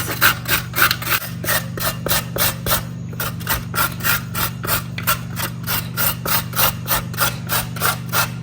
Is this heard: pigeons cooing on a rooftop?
no